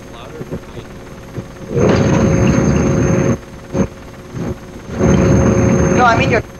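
Two long, loud blasts of in-game helicopter noise from Operation Flashpoint: Dragon Rising, close and steady, with short quiet breaks and a brief burst between them.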